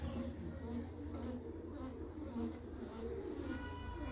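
Pigeons in a village loft at Lohakhera, built with bamboo slats and a straw-covered roof, give low, soft cooing throughout, partly beneath someone talking nearby.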